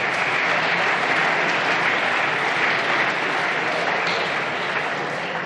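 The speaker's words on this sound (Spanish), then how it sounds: "hasta su bancada ha tenido que hacer un esfuerzo para aplaudirle" Members of the Spanish parliament applaud in a chamber, a dense, steady wash of many hands clapping that carries on evenly before easing slightly at the end.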